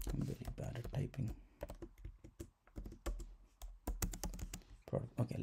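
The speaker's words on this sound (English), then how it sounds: "I'm very bad at typing" Quick, irregular keyboard clicks come in bursts as someone types, with a person talking over much of it.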